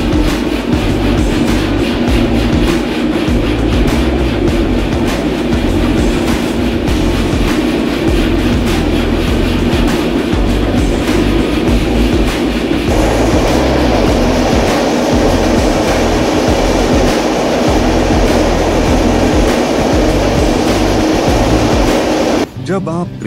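Passenger train running between Katra and Jammu through Udhampur district, a steady loud rumble of wheels and carriage noise throughout, with rhythmic clatter and a brief drop in the sound near the end.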